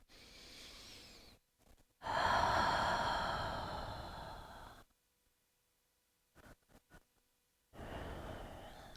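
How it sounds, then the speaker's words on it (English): A person in a calm yoga session breathes in through the nose and out through the mouth, a soft airy inhale followed by a longer, fuller exhale, then a pause and another breath, close and alone. "inhaling through the nose, exhaling through the mouth"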